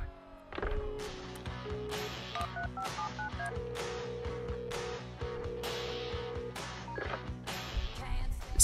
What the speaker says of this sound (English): it feels like you should be answering the phone